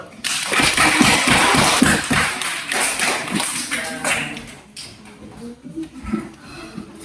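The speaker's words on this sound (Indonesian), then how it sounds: "Tepuk tangan dulu." A class claps for a student group's work, with a loud burst of many hands that grows uneven and sparse, mixed with chatter and a voice talking over it.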